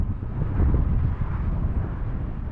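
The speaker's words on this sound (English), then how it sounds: "35 mile per hour wind gust" A steady roar of 35 mph wind gusts buffeting the microphone, loud and close, with no voices.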